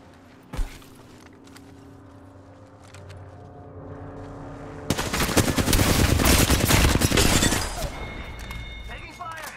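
Gunfire in the shooter game Apex Legends, a sharp early shot and then a dense, loud burst of rapid automatic fire with shattering impacts, over quieter game ambience.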